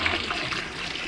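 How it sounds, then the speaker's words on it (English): A toilet flushing at the equator in Quito, Ecuador, with water swirling counterclockwise; a steady, close rushing and gurgling of water fills the whole moment with no pauses. "Okay, Canadian flush. Counterclockwise."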